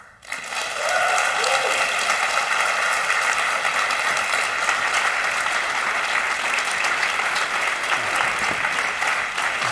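An auditorium audience breaks into loud, sustained applause to welcome the founders of the Student Peace Prize at its 20-year celebration, steady dense clapping from start to finish.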